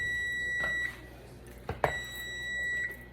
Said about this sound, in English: And I forgot to shut off the timer.